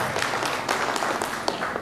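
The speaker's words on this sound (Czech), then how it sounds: "potlesk pro paní Bohumilu Beranovou, členku Rady Jihomoravského kraje" Audience applause at a municipal ceremony presenting and blessing the village symbols in Hodonice, a steady dense clapping at moderate loudness with a few sharper claps standing out and no voices.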